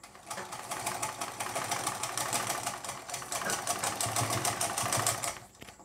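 Sewing machine stitching down a folded extra cloth strip while making a blouse sleeve: a steady, rapid, close-up needle rattle runs continuously with no talking.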